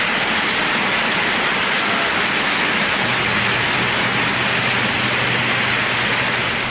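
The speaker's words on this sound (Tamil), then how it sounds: "புதுக்கோட்டை மாவட்டம் கந்தர்வக்கோட்டை, அரிமடம், கொத்தமங்கலம் உள்ளிட்ட பல்வேறு பகுதிகளில் பரவலாக மழை பெய்தது." Widespread rain falls across towns of Pudukkottai district, Tamil Nadu, as a steady, dense hiss that holds at an even loudness throughout without pause or voices.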